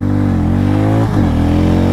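A Hero Mavrick 440 motorcycle engine drones loud and close with a steady rising tone, dipping briefly at a gear change midway before pulling again, with no talk over it.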